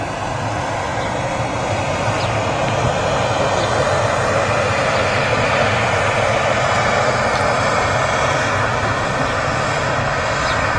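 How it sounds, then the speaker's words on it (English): A TUI Boeing 787-8 Dreamliner arriving at Manchester Airport, its broad engine roar loud and sustained with a steady rumble and faint whine, no speech over it. "And yeah, TUI Dreamliner coming in."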